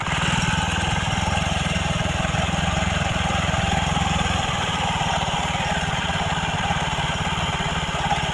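Honda Beat scooter with a fault that keeps the rear wheel spinning, its small engine running steadily close by with a continuous buzzing putter throughout.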